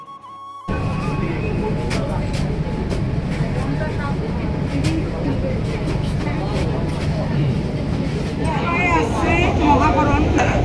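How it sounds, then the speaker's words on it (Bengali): A Kolkata metro train running from Howrah to Sealdah rumbles steadily along the track after its doors close, a continuous low roar filling the space, with faint chatter from passengers beneath it. "মেট্রোর গেট বন্ধ হয়ে গেল চলতে থাকলো আমাদের মেট্রো"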